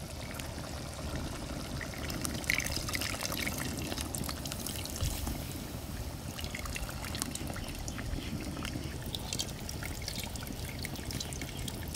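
Tamarind water is poured into a simmering brinjal gravy in a village kitchen, giving a steady, close liquid stream and trickle with faint bubbling beneath.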